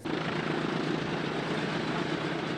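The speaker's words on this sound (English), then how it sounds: "it's exciting enough just flying this old airplane" An old propeller airplane in flight fills the scene with a loud, close, steady engine drone that holds level throughout, with no voices.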